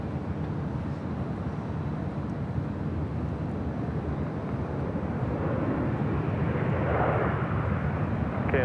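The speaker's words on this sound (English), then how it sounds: "KLM Flight 602 taking off to Amsterdam on a 787-10 Dreamliner" A KLM Boeing 787-10 Dreamliner takes off from LAX, a steady broad jet roar heard from a distance that swells slightly louder toward the end, with no talking.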